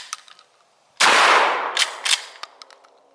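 A burst of full-auto gunfire slams into a bucket at an outdoor range, one loud sudden blast followed by a few sharp echoing cracks and scattered impacts fading out.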